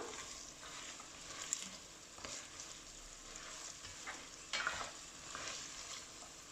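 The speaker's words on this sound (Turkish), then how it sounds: "Havucu ekledikten sonra da şöyle 5 dakika kadar havuçla birlikte sotelemeye devam edeceğim" Onions and carrots sizzle steadily in a hot pan, stirred now and then with soft scraping, close and continuous.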